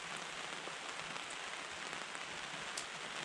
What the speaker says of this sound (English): It takes a lot of rain to saturate the tarp or the canopy.